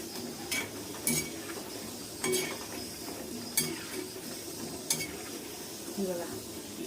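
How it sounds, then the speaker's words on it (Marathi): Spinach pakoda frying in hot oil, a steady soft sizzle under a handful of sharp utensil clinks and scrapes spaced every second or so, close and moderately quiet with no talking. "हे बघा मस्त अशी व्यवस्थित तळून घ्या।"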